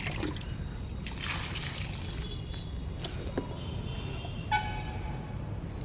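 Water is poured from a mug onto small potted plants, a soft continuous trickle and splash with a few brief sharper splashes along the way.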